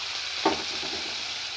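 Chopped onion and green chili sizzle steadily in hot white oil with cumin, a continuous hiss broken by one brief stirring scrape.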